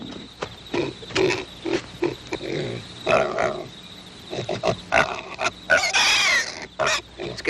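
A pig grunts and squeals in a pen amid creaking, scraping movement, the noises coming in irregular bursts at close range, loudest and most strained near the end.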